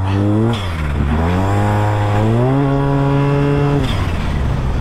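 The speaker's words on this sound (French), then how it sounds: "Là c'est le premier essai routier de ce T-Max" A turbocharged Yamaha T-Max 530 scooter accelerates hard on its first road test with long gearing, its loud engine note climbing steadily in pitch before dropping off sharply near the end.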